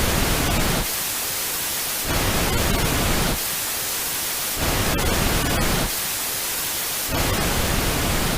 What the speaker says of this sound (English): That's meant to be pink noise, so it's meant to be different from white noise.